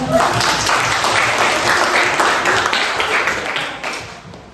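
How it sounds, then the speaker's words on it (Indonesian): A group claps in a school guidance and counseling session, a dense, steady burst of hand applause filling the room before tapering off near the end, with faint voices mixed in. "tepuk tangan"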